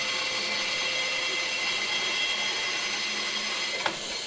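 A bandsaw with its table tilted cuts an angled notch in wood for a chair, a steady whining hum with a faint rasp running evenly for a few seconds before a brief click near the end.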